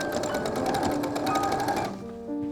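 A sewing machine base stitching dress fabric, running in a fast steady rhythmic chatter of needle strokes, then slowing and stopping with a brief mechanical whir near the end, close up and alone.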